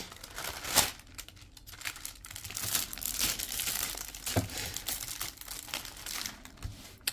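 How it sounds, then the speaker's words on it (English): A plastic wrapper being peeled and pulled off up close, with loose, irregular crinkling and crackling bursts and a few sharper rips, fairly quiet overall. "let me take the wrapper off"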